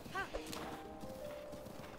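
Horse hooves clip-clop at a steady trot in the video game Zelda Breath of the Wild, with a short whinny near the start and game sounds throughout.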